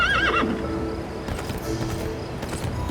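A horse in the online video game Moonlight Blade Online gives a loud, clear whinny. Clip-clop hoofbeats follow and keep a steady rhythm over a constant background.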